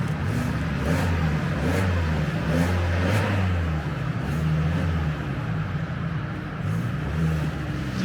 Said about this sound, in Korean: 엔진 소리도 아주 좋고요